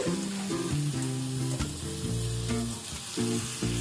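Seven hundred grams of medium-cut bone-in chicken sizzling and frying in hot spices in a pan over a high flame, a loud continuous crackle with a low tonal hum running underneath.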